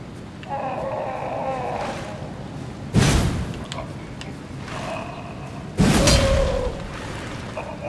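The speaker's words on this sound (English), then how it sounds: "Explosion. Oh, explosion." Two explosions in the video game Elden Ring, each a sudden loud broadband blast followed by a decaying rumble, spaced about three seconds apart over a steady bed of game ambience and music.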